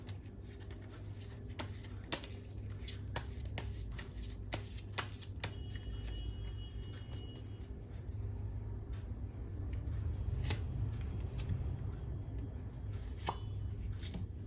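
A tarot deck being shuffled by hand during a reading, with soft repeated riffles and sharp card taps at irregular intervals, close but quiet, with no talk over it.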